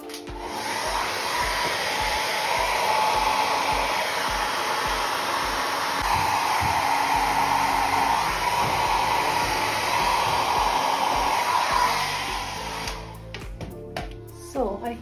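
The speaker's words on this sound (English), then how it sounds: "So I will need my" A hair dryer blows steadily on a glued furniture piece during a furniture transformation job, a loud continuous whooshing roar that holds for about twelve seconds before switching off, leaving faint handling sounds.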